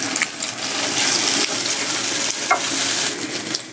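Dried fish, chili powder and garlic frying in a pan for a brinjal and shutki mash, giving a steady close sizzle and hiss with small bubbling pops throughout.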